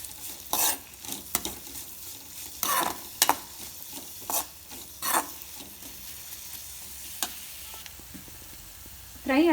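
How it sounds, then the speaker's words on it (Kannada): Chopped onion and green chilies fry in a pan for a raw banana palya, with intermittent loud stirring scrapes and clinks of a spoon against the pan over a faint background sizzle. "ಆನಿಯನ್ ಸ್ವಲ್ಪ ಫ್ರೈ ಆಗಲಿ, ಸ್ವಲ್ಪ ಬೇಯಬೇಕು"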